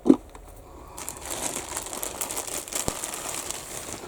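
Plastic crinkles and rustles steadily for a few seconds after a brief thump, close by with no talking.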